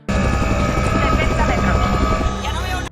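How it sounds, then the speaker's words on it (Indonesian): A Chinook helicopter roars continuously at close range, its dense rotor and engine noise loud and steady throughout. "Helikopter Chinook akhirnya kembali ke posisi semula dan bersiap untuk melakukan evakuasi."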